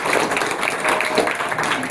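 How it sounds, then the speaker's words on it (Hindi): Children at a school yoga camp applaud in a sustained, dense wash of clapping that stays loud and steady throughout. "जोरदार ताली बजाओ मंगलांश"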